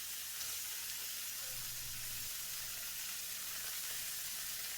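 Seasoned meat patties sizzling in a pan, a faint, even hiss that carries steadily throughout with a brief low hum near the middle, no voices.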